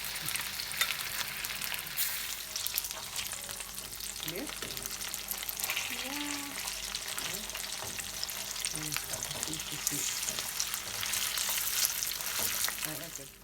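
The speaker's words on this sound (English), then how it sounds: "we're going to add our fish chunks into it. We're going to fry them until they're golden brown" Fish chunks fry in a large non-stick frying pan, a steady close sizzle and crackle of hot oil lasting throughout, with occasional soft clinks and stirring.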